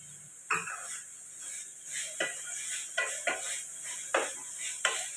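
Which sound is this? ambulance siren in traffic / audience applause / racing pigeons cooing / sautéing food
sautéing food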